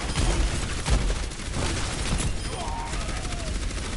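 Rapid gunshots and bursts in a video game, fairly close and continuous over a busy, loud mix of game sound, with some faint talk underneath.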